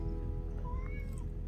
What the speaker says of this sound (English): And I'm greeted by the local cat.